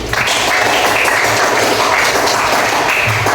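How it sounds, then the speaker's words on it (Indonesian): Classroom applause for a student group at an elementary school in Indonesia: a steady wash of clapping hands from many children, loud and continuous for about three seconds with no speech over it. "tepuk tangan untuk kelompok kelinci."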